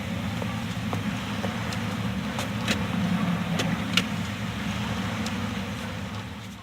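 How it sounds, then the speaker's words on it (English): The Wagon Queen Family Truckster station wagon from National Lampoon's Vacation drives along with a steady low engine rumble, joined by faint scattered clicks and taps. "this is the automobile you should be using, the Wagon Queen family truckster"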